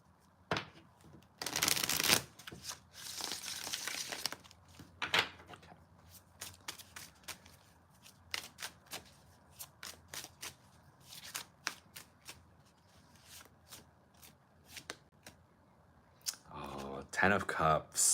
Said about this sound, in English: let me shuffle this deck a little bit more